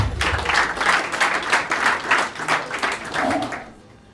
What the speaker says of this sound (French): Est-ce qu'on peut applaudir pour vous, s'il vous plaît?